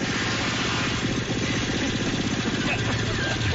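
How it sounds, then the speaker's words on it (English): A motorcycle engine drones continuously at steady speed while riding in Colorado, loud and close, with a rough rhythmic rumble throughout. "Yeah, I can hear the motorcycle."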